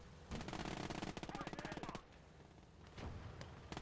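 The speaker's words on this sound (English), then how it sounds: "We're taking quite a bit of fire on the crew from this PTRS guy" Heavy anti-tank rifle fire from a PTRS in the WW2 strategy game Gates of Hell, dense loud bursts of rapid gunfire for the first two seconds, then scattered sharp shots against battlefield noise.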